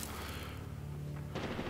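Steady machine gun fire from a mounted MG in Medal of Honor Warfighter, a continuous rattling stream at moderate loudness with a heavier burst near the end.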